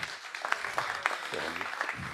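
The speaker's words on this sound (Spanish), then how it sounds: "Les pido lo recibimos con un fuerte aplauso." A crowd claps steadily and moderately, a dense patter of hands at medium distance with a few louder individual claps.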